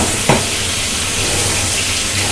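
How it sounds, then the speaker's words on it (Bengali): Two fish heads dropped into hot oil in a pan give a sharp hiss at the start, then a loud, dense, continuous sizzle and crackle of frying that carries on alone. "এবার আমি মাছের মাথা দুটো তেলে দিয়ে দিলাম, এবং মাছের মাথা দুটোকে আগে একটু ভাজবে"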